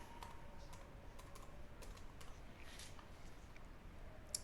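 Quiet, steady typing on a computer keyboard as a part name is entered in CATIA V5 CAD software, with light irregular key clicks running throughout and a low background hum.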